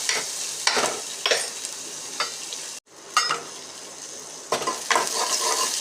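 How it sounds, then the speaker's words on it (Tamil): Onions, chana dal, urad dal and mustard seeds sizzle and are stirred in a pan for a Tamil-style beans poriyal, with a steady frying hiss and repeated louder scrapes of the stirring spoon. No one speaks. "இதை நல்லா வதக்கிடுங்க."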